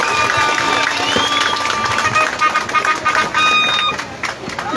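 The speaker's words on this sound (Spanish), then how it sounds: "aplausos!" A crowd at an outdoor political campaign rally in Panzós claps and cheers loudly with whistles and shouts, the noise swelling and dipping as a voice cuts through briefly.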